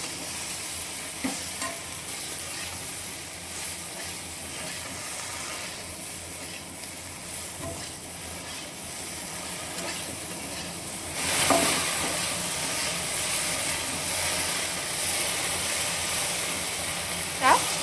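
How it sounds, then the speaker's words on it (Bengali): Cut okra frying in hot oil in a wok, a steady sizzle and hiss with repeated stirring scrapes close by, swelling louder toward the end; no talking. "ঢ্যাঁড়সটা একটু তেলের মধ্যে নেড়ে চেড়ে ভেজে নেব।"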